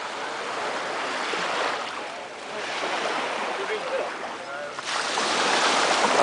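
Surf washing steadily onto Kata Beach in Phuket, Thailand, a small bay between two headlands, with a continuous broadband wash that swells and recedes over several seconds, loud and close, with no voices.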